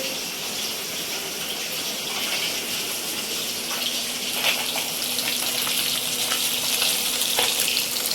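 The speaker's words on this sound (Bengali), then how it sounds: "মাছগুলো ভাজা হয়ে গেছে" Pieces of bata fish fry in hot oil for a potato-and-fish dish, giving a steady, dense sizzle with scattered crackles and pops that grow slightly busier toward the end.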